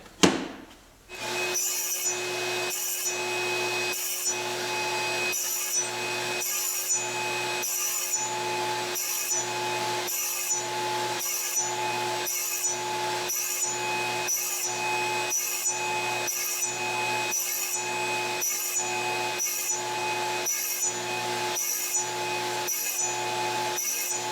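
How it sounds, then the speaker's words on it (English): A radial arm saw slots a rosewood guitar fingerboard for frets, a loud, close, steady motor whine with dust collection running, broken by a regular series of short cuts about one per second. "Now we're going to raise the blade a little bit and cut all the fret slots."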